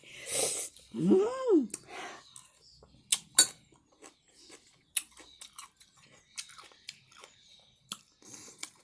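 Close, crisp bites and wet, clicking chewing of a gooseberry, a short series of crunches and mouth sounds spread across the clip, preceded by a brief hummed voice.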